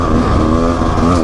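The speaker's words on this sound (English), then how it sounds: "you just give it a little pop of the throttle" Engine of a 2024 Rieju MR 300 Pro two-stroke dirt bike revving under a quick throttle pop, a loud, steady, close-up buzzing drone with a wavering pitch that holds for the whole moment, no voices over it.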